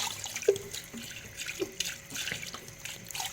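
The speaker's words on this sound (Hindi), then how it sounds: "हमने पाए के अंदर पानी डाल दिया है।" Water is poured into a pot of beef paya, giving quiet splashing and trickling with a few brief drips and clinks, fairly faint and close.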